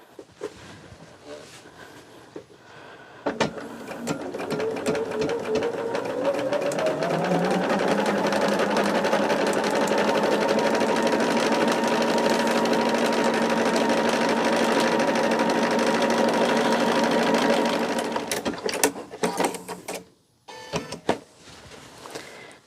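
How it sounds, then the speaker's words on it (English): A sewing machine stitches a steady, fast-running cross-hatch quilting line across a coaster top, loud and continuous for most of the stretch, starting and stopping with brief handling noise at either end. "am going to kind of cross-hatch quilt my top here"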